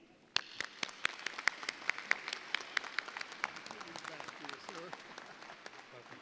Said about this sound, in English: Please join me in giving a round of applause to our Speaker of the Hour